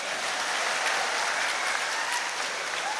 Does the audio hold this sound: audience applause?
yes